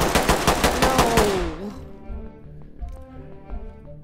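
Rapid gunfire in a tactical shooter game, a quick burst of loud close shots followed by ringing echoes and quieter clatter.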